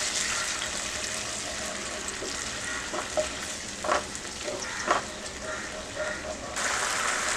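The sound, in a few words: sautéing red chilli sauce, ketchup and soy sauce in pan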